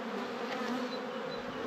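Honeybees buzzing densely inside a queen-rearing hive, a continuous close, loud hum of many wings with no pauses.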